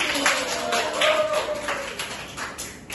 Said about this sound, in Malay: Sila bagi tepukan untuk diri sendiri.